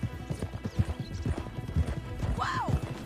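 Rhythmic hoofbeats clip-clop steadily at a walking pace, with a horse whinnying briefly near the end, in the video game Red Dead Redemption 2.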